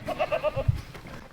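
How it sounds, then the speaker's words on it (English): A goat bleats in a quick series of short, nasal pulses, faint and fairly close, followed by a low grunt. "That's definitely a goat."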